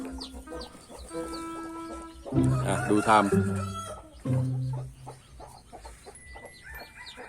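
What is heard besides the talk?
chickens clucking near hatching eggs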